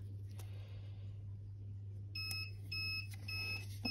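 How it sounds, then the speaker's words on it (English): A sublimation heat press, used for pressing a mug, sounds its ready signal: a short series of high electronic beeps over a constant low hum, close and clear. "That beep is just letting me know that the press is ready."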